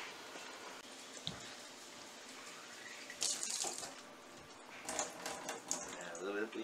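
Water runs from a tap in a steady splashing stream, broken by clatters and drips, while people talk nearby.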